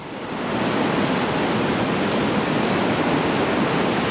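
Whitewater rapids on the Lower New River roar in a dense, continuous broadband rush, swelling in over the first half second and then holding loud and steady with no voices.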